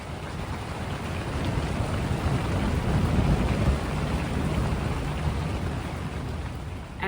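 Steady heavy rain pours during a thunderstorm, with a low rolling rumble of thunder swelling through the middle; no voices.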